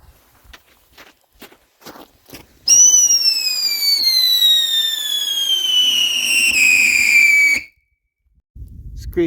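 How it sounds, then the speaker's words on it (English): Screecheroo firework launching outdoors, a loud, piercing whistle that slides steadily downward in pitch for about five seconds, after a few footsteps and soft bumps, then cutting off into silence before a low rumble. "Screecheroo and bottle rocket."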